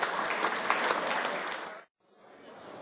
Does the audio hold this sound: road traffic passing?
no